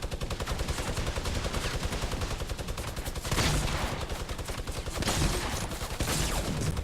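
Rapid, continuous minigun fire in the battle royale video game Fortnite, a dense, loud mechanical roar of shots that never lets up, with slight swells in intensity.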